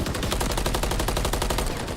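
Rapid automatic gunfire from a Call of Duty match, a dense, loud, sustained burst of evenly spaced shots with no pauses and no voices.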